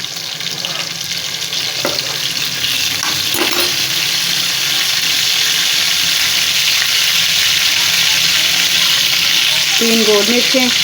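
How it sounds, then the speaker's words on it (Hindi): Loud, steady sizzling of cumin seeds dropped into hot oil for tempering dal, a constant crackling hiss with a few clinks of a utensil, close by. "मैं ज़ीरे का तड़का लगाऊंगी इसको।"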